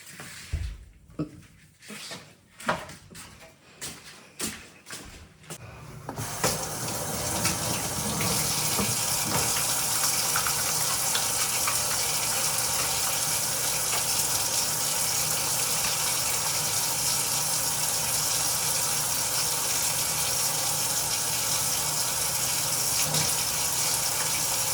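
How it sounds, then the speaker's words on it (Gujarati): Tap water runs steadily and loudly close by for hand washing outdoors in cold, rainy weather, following a few seconds of handling knocks and bumps. "હાથ ધોઈ લઈએ, ડસ્ટબિન અડ્યા હતા એટલે."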